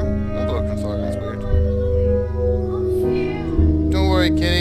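Cat meows inside a horror-puzzle video game, rising over a steady droning music bed with several tonal, wavering calls through the middle and end.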